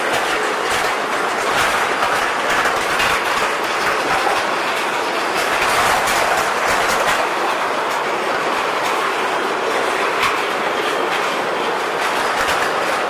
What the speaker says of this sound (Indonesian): Dan lorinya cukup ngebut, teman-teman.